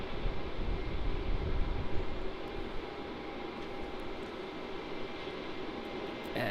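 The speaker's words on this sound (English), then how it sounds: "we have the Jetstar A321 going to Cairns as a JQ942, taking the full length of runway 16 for its departure" Jetstar Airbus A321 jet departing on runway 16 at Melbourne Airport, a broad distant engine roar that swells early then settles into a steady fainter rumble.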